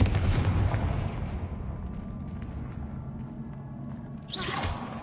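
The Confringo fire spell in the Hogwarts Legacy video game goes off with a heavy, booming blast that rumbles and fades, followed by a sharp whooshing swish near the end.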